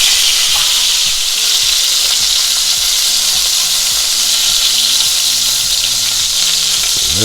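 Burger patties for bacon jam cheeseburgers fry on a flat-top griddle, a loud, unbroken hissing sizzle close up over a faint tonal hum, with no voices.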